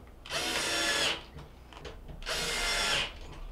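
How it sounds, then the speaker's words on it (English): Mounting screws being driven into a Frigidaire washer by a power drill, two close bursts of roughly a second each with a brief pause between, no talking. "We'll put our mounting screws back in."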